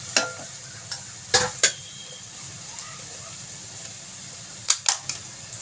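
Cooked rice tipped into a pan and stirred for veg fried rice, with a few sharp clustered scrapes and knocks of the spatula and a quiet hiss between them, close by.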